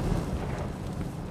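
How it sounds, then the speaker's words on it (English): A flammable solvent storage tank explodes at the Barton Solvents facility in Valley Center, Kansas, producing a loud, deep, continuous roar and rumble that fills the short moment. "an explosion in a flammable solvent storage tank at the Barton Solvents facility rocked the town of Valley Center, Kansas"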